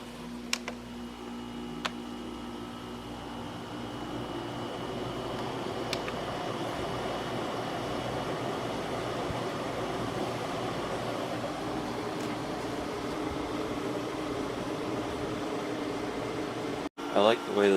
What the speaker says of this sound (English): I like the way this windmill air conditioner cools this room with the air blowing up.